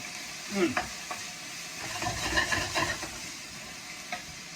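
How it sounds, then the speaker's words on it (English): Garlic and ginger hiss softly in a hot pan while a utensil stirs and scrapes in a few uneven strokes, close but quiet, with no voices. "we'll just stir fry that"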